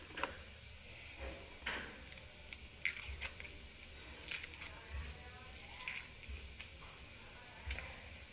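An onion being cut with a knife, one after another, as a series of faint, irregular crunching chops against a board over a quiet low hum, no voices.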